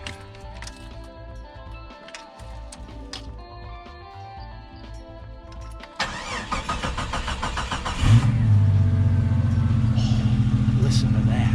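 A 1993 Jeep XJ being worked on cranks and catches, its engine starting after several seconds of clattering and then settling into a loud, steady idle close by.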